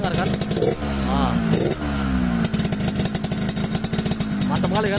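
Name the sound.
Yamaha RX King 2004 motorcycle engine snoring idle sound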